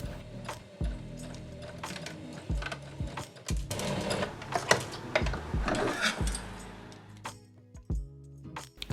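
A sewing machine stitches the waistband of a summer elastic-waist skirt into a ring, whirring in quick mechanical bursts that start and stop, close by with light fabric handling in between.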